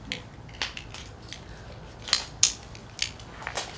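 Several crisp little snips from small scissors cutting open a grease tube, two sharper cuts standing out among fainter ones, close by with a quiet room behind.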